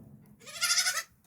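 A single sheep (ewe) bleats once in a farm pasture, a nasal wavering cry lasting about half a second, close and clear above faint outdoor background noise, with no talk.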